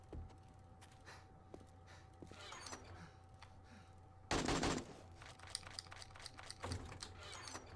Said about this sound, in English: Who are you shooting?